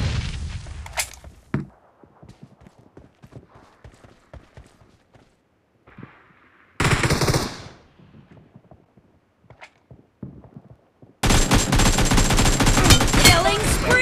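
Gunfire in a shooter video game, scattered rapid shots and clicks through quiet stretches, a loud burst of fire in the middle, then sustained heavy automatic fire at the end.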